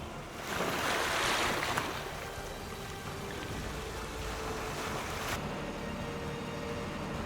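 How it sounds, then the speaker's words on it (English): Turbulent Atlantic Ocean waves break along the desert shore of the Skeleton Coast in a broad, continuous roar, swelling early on, with wind buffeting the microphone. "Where the barren Namib Desert meets the turbulent waves of the Atlantic Ocean"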